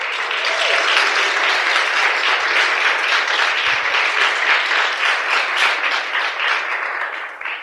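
An audience at a talk on keeping small teams engaged gives a loud, sustained round of clapping, dense and rhythmic at first, then thinning toward the end.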